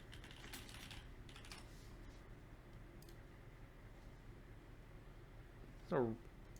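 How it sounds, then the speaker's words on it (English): Steady soft keyboard typing under a low room hum, with a brief voice near the end. "Keyboard noise is incoming."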